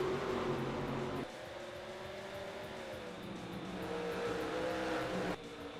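Race cars lap Berlin Raceway in an ARCA racing video game, with a steady engine drone and a rising and falling pitch as cars pass. A louder burst of noise at the start and end frames the continuous race sound.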